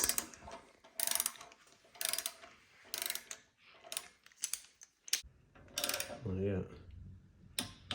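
A torque wrench ratchets and clicks in short bursts on Hemi oil pan bolts during a Holley Gen III Hemi swap, the bursts separated by pauses. A person speaks briefly near the end.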